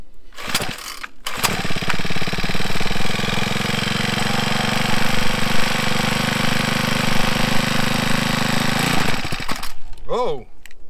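Small engine running steadily and loudly after the choke is pulled, a rough buzzing drone that holds for most of the stretch before cutting out, with brief talk at start and end.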